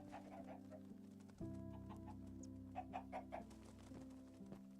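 Chickens in Minecraft Bedrock with the RealismCraft pack, clucking and cooing softly in short irregular bursts over a steady droning game background, with no talk.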